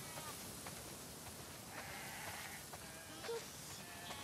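A flock of sheep is herded toward a barn in the video game The Last of Us Part II, with faint, scattered bleats under a low, steady ambient bed.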